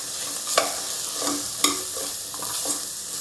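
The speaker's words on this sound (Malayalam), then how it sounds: "അതിലേക്ക് നമ്മൾ അരിഞ്ഞു വെച്ചിരിക്കുന്ന ഉരുളക്കിഴങ്ങും ക്യാരറ്റും കൂടെ ഇട്ട് ഒന്നുകൂടെ ഇളക്കിയെടുക്കാം." Chopped potato and carrot being stirred into onions frying in a pan for a Kerala-style chicken stew: steady close sizzle with a few distinct scraping stirs of a spoon, no voices.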